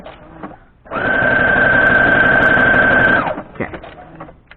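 A sewing machine stitches steadily along a marked quilting line for about two seconds, a loud continuous whir with a bright steady tone, framed by quieter handling noise before and after.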